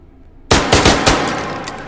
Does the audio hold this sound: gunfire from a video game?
yes